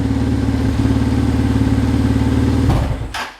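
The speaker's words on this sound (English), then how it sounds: "We're going to let this motorcycle run for a while to get up to a normal operating temperature." A motorcycle engine idles steadily up close while warming to operating temperature, a loud even chugging that cuts off near the end, followed by a brief clatter.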